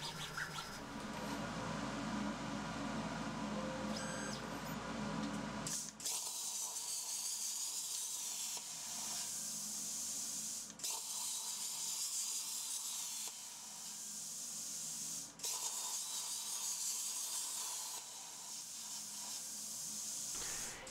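Everlast plasma cutter slicing thin-gauge metal on a rotary axis, a loud continuous hissing spray broken by a few brief pauses and restarts, with no talk.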